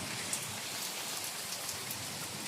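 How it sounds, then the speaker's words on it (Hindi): Heavy monsoon rain pours down in a dense, steady hiss of countless drops striking surfaces, continuous and fairly close with no voices. "एकदम झमाझम बारिश, झमझम बारिश हो रही है"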